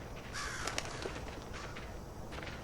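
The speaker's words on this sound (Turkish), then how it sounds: "Kargalar." Crows cawing in the video game Hello Neighbor 2: a few faint, harsh calls drift over a steady ambient hiss, distant rather than close, with no talk.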